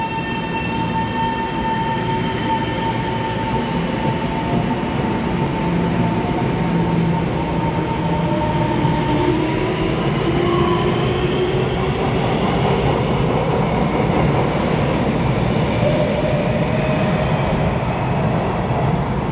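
A ten-car EMU900 electric multiple unit train rolls past on Taiwan's mountain railway line, a loud, steady rumble of wheels with faint squealing tones throughout.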